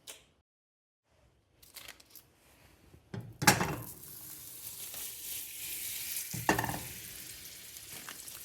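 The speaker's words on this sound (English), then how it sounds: "we're gonna be putting 1 pound, 4 sticks of butter to melt in here" Butter, four sticks, melting over milk and dates in a pot on the stove for Iraqi date cookies: quiet at first, then a soft steady sizzle with a few clanks and scrapes of utensils.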